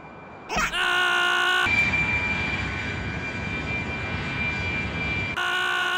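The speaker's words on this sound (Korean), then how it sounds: "우리 비행기는 곧 하와이에 도착합니다." Cartoon airliner cruising toward Hawaii, a steady droning engine hum with a high whine that holds for several seconds after a brief sharp onset, loud and continuous.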